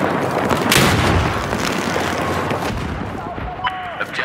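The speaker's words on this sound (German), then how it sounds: "Runter, eine Granate!" Grenade blast and gunfire in Battlefield 4: a heavy boom near the start rolls into scattered shots and rumbling battle noise, with voices calling out over the din.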